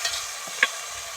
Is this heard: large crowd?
no